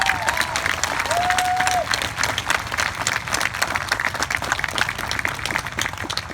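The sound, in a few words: applause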